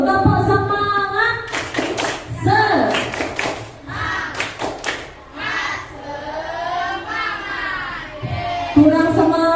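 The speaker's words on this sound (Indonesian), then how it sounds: "Tepuk semangat dulu. Tepuk semangat." In a classroom, children beat out a rhythmic spirit clap in short bursts of sharp group claps, interleaved with a teacher's chanting voice and the children's voices.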